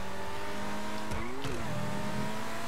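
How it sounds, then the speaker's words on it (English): A car engine in Grand Theft Auto V hums at steady pitch, then revs briefly upward with a quick rise and drop before settling back to idle. "when this car is stopping, you rev the engine, bro. It sounds crazy"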